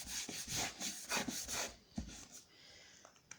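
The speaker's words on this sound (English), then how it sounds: "very gently, I put it down and I rub it well" Paper is rubbed by hand onto a mono-printing plate in a quick run of close, soft scraping strokes that fade out after a couple of seconds.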